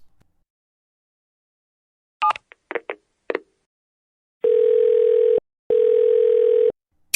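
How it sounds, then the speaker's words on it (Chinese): A telephone is dialed in a Chinese drama scene: a few short, quick keypad beeps, then two long, steady tones with a brief gap between them, clear and close in an otherwise quiet room. "好，我现在啊就给媒体打电话"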